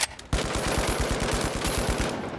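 Rapid automatic gunfire in the video game The Finals, a fast, evenly spaced burst of shots lasting about two seconds, loud and close with no talk over it.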